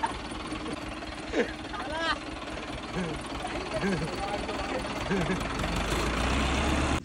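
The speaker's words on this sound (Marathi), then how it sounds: "थांब, ट्रॅक्टर बंद कर." A farm tractor's engine chugs and idles with a heavy, rhythmic knocking, close by, while people talk over it.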